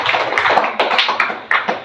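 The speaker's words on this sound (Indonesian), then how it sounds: "Beri dulu tepuk tangan untuk kawan kita." Classroom applause for a student in an Islamic creed lesson: a short round of loose, uneven hand claps from a small group, with a few sharper individual claps standing out close by.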